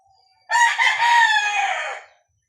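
A single loud, close crow from a fighting rooster, lasting nearly two seconds and then giving way to silence.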